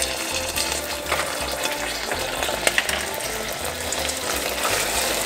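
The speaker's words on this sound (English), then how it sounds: "We're gonna stir it up here." Sugar syrup for tanghulu candied strawberries, tinted with red food colouring, is stirred in a pot. A loud, dense, continuous hiss is broken by small scraping clicks, with a low rumble underneath and no speech.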